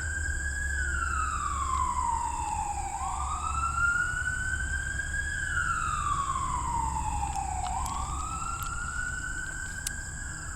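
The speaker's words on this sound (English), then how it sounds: "there's an ambulance going by" Ambulance siren passing by outdoors, a slow wailing tone that rises and falls in long sweeps over steady traffic rumble, moderately loud and continuous, with no talk over it.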